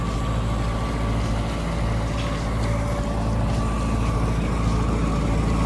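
Steady drone of a motorboat engine running continuously while towing a loaded aluminum skiff through salt water toward Lawson Harbor, an even, unbroken hum with broad water and hull wash throughout and no talking.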